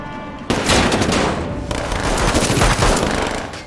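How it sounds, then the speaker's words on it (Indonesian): Heavy gunfire from a film shootout between a SWAT team and gunmen on a bridge, with dense, continuous bursts of automatic fire and shots starting abruptly and carrying on loudly. "Kyle dan tim SWAT-nya terlibat baku tembak di atas jembatan."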